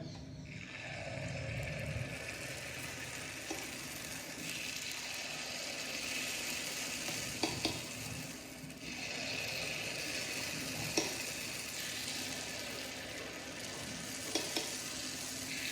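Spicy kara paniyaram batter sizzles steadily in an oiled paniyaram pan, a constant close frying hiss with a few faint clicks and taps, and no talking.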